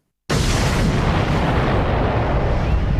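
A huge explosion representing the Big Bang bursts in suddenly after a brief silence, then roars on as a loud, sustained, rumbling boom that fills the whole clip.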